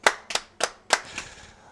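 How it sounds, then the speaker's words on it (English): Four brisk hand claps come from a commentator in the booth during a pool match after a difficult kick shot. They are close and fairly loud with even spacing, then trail into a faint scattered patter with no talking. "Clap from the booth, you don't get that often."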